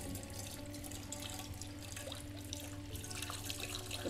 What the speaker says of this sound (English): we should be getting running water out of our tank